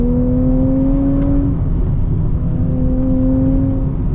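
A 2025 Nissan Z Nismo pulls through third gear, its engine tone rising smoothly and steadily as revs climb, then briefly easing and rising again, heard from inside the cabin with no talk.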